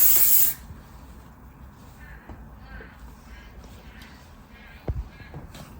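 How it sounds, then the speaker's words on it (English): Hair spray gives one short, loud hissing burst at the start, then faint rustles and small taps follow in a quiet room. "Now let's add the spray."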